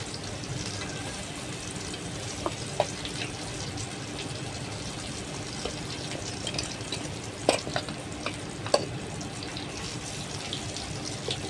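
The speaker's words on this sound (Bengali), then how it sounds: "এখন কাঁকরোল তাওয়ায় দিয়ে দিয়েছি। এপিঠ উল্টে ভাজি করে নিব।" Teasel gourd pieces frying on a griddle in a village kitchen, a constant close hiss of oil with occasional soft clicks and scrapes as the pieces are moved.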